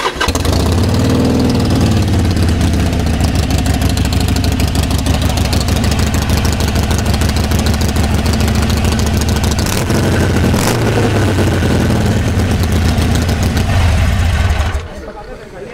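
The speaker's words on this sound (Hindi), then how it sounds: "तो यही एक झलक थी iExile एग्जॉस्ट की ऑन दिस आयरन 883।" A Harley-Davidson Iron 883 fitted with an iExile custom exhaust idles loud and close, a deep steady throbbing rumble that holds until it drops away near the end.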